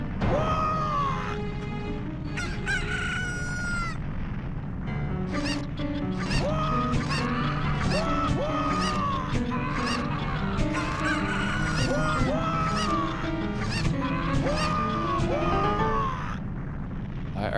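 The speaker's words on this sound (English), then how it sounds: "The final crash out animation is Cuckoos attacking Ingo." Cuckoos attack a character in the video game Hero of Law, a dense, continuous flurry of loud honking, squawking bird cries layered over rattling, clattering impacts and busy game music, with no talk.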